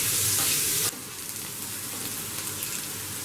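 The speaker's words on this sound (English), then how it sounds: "Allow the onions to lightly brown" Onions for a Kerala chicken curry fry in a pan with a dense, close sizzle that starts loud and bright, then settles into a softer steady crackle with faint stirring scrapes.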